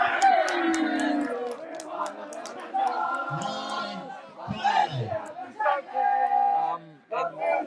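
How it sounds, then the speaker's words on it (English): A loud Kilimeru crowd at a cup final shouts, whoops and bellows in bursts, with excited voices rising and falling close by and brief lulls between. "And the Kilimeru crowd is very loud here."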